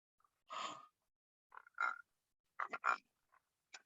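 A toy frog gives several close croaks, one longer call followed by short clustered bursts and a faint final chirp, separated by silence.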